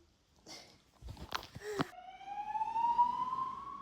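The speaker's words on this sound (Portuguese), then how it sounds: "Meu Deus, que sirene alta, velho." A siren winds up and rises steadily in pitch, growing louder after some brief scuffling noises at the start.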